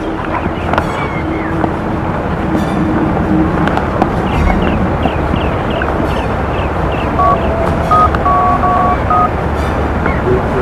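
Amid steady wind and outdoor rumble, a short series of electronic keypad beeps is dialed on a phone near the end.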